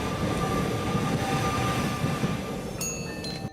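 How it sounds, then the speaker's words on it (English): A Melbourne train in a Roblox transport game gives a steady, loud rolling rumble. Thin high-pitched squealing tones join in near the end. "this is a Melbourne train in a Roblox game"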